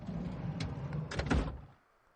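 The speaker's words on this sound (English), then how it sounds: "opened the passenger side door" Car passenger door opening in the Steins;Gate 0 video game, a short mechanical latch clunk and rustle, fairly quiet and alone, ending in silence.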